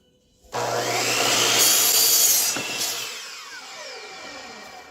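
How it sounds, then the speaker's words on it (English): A chop saw cuts through a 4 inch wood window trim board. One loud close cut starts abruptly as the blade bites, roars through the wood, then winds down as the blade slows. No one speaks. "we're going to put that 4 inch on the chop saw, cut it 30 1/2"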